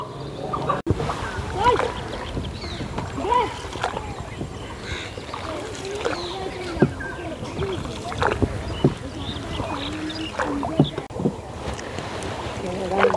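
A boat moves across the wide Kunti river, with water lapping and wind buffeting the microphone while people talk and call out nearby throughout.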